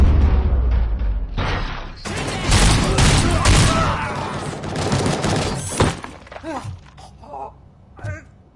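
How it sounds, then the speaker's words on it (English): Gunfire in the video game RoboCop Rogue City, a loud dense burst of shots and impacts filling the first six seconds, then fading to scattered thuds as a voice speaks over the quieter end. "I hear gunshots."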